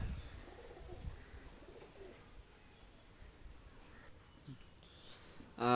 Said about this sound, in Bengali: দুইটা কবুতর অনেক ভালো কবুতর, ভালো বিলার্ডের কবুতর।